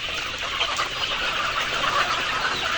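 Layer hens cluck in a dense, steady chorus while being loaded onto a vehicle, a continuous close flock murmur with no one talking.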